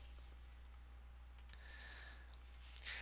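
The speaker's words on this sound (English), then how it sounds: "I'm going to go ahead and click update and then close." A computer mouse clicks through update and close prompts in Dreamweaver CS6, a few soft, sharp clicks close by over a quiet background hum.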